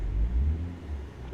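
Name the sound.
Porsche car driving past in video game American Truck Simulator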